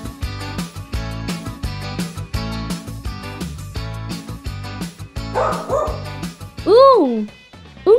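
A dog barks and yips in a repeated cartoon-like pattern over bouncy children's music, with a short whimpering whine near the end.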